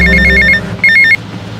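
A payphone rings in the video game GTA Vice City with two loud, close bursts of rapid electronic bell trilling, separated by a short gap, over a low game background hum.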